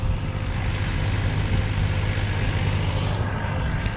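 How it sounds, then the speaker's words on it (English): A tractor tedding a hay field on a farm, its engine a steady low drone rumbling continuously in the background throughout, with no talk. "So you may hear the tractor in the background."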